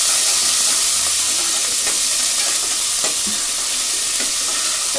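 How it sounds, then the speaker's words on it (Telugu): Chana dal, mustard seeds, urad dal and curry leaves fry in hot oil with a loud, steady sizzle and hiss, close up and constant, with faint crackles and stirring. "పచ్చనిపప్పు, ఆవాలు, మినప్పప్పు, కరివేపాకు. ఇవన్నీ ఒక ఏది వేసుకోవాలండి."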